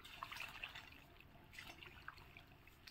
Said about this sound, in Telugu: బోర్లు జాయింట్ కలిపితే వచ్చే వాటర్ అది.